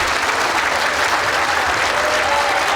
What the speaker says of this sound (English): a big cheer, and the crowd are responding